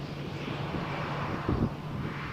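Aircraft engines roar at Malaga Airport on a stormy morning, a steady broad rumble from a distance with wind buffeting the microphone and a brief gust in the middle.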